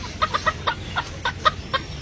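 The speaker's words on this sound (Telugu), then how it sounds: "థాయిలాండ్ కోళ్ళ, థాయిలాండ్." Thailand-breed chickens at a farmhouse cluck in quick, irregular bursts, a string of short, close clucks with no one talking.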